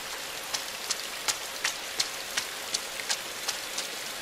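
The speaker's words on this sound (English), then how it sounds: "Did I actually cause the thing to cause this rain?" Rain falls in the video game INSIDE, a steady hiss of downpour with crisp individual drops ticking at irregular intervals, fairly soft and even throughout.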